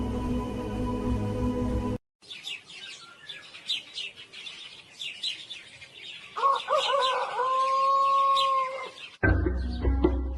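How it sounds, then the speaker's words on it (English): Birds and a rooster crowing in the early morning, with chirps and tweets scattered throughout and one long, clear rooster crow near the middle, set between louder unrelated passages at the start and end. "Sounds of birds struck out early in the morning."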